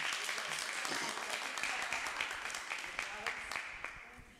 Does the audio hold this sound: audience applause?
yes